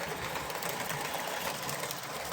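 A 1990s Lionel starter kit locomotive with a can motor runs steadily, giving a smooth, even mechanical whir with a faint rhythmic buzz, close and alone.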